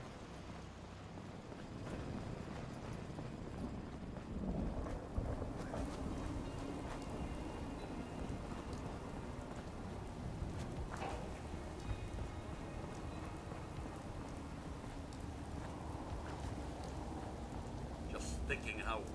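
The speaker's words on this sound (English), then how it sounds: "We are inside and out of the rain now." Steady rain with rumbling thunder in the Fallout 4 video game, a constant wash of rainfall with low rolls of thunder throughout, filling the background continuously.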